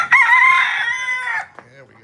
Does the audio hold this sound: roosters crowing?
yes